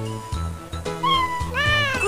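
Kitten meowing in a Fisher Price Little People airport game: several bright, rising meows, close and clear, over light background music.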